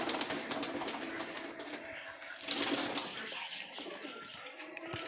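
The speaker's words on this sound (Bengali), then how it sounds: "এখানে সব পায়রাগুলো আছে।" Pigeons in a loft coo steadily at close range, with a burst of wing flapping partway through and scattered calls over the continuous murmur of the flock.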